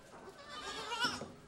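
Hand-raised, bottle-fed male goat kids bleat in a wavering, close cry that rises toward the end, alone without talk.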